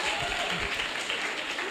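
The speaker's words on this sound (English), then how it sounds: "Let's clap for her again." A conference audience claps briefly for a speaker, a short wash of many hands that is steady and fairly loud, with a voice talking over it.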